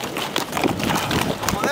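Horse hooves clip-clop steadily through a noisy wedding procession on the way to the church in San Francisco Teopolulco, with crowd chatter and voices running over the whole stretch.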